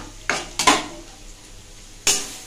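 Pre-boiled dal tipped into a cooking pot, a few distinct clatters and sloshing bursts of metal utensil against the pot, close up, with quiet pauses between and no talk.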